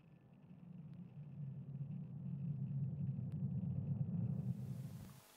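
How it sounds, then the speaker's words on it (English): A SpaceX Falcon rocket carrying Starlink satellites thunders after liftoff as a deep, steady rumble that swells slightly and holds, heard from a distance with no voices, then cuts off abruptly. "liftoff. Go Falcon, go Starlink. Vehicle's pitching downrange."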